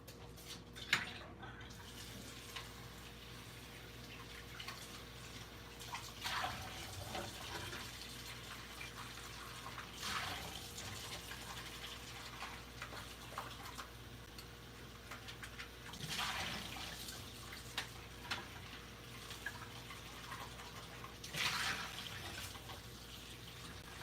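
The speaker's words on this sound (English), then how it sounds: "And I'm also going to change my water out." Water runs from a tap while dirty painting water is emptied and refilled during a craft session. A low, continuous watery rush continues under faint background noise with occasional splashes.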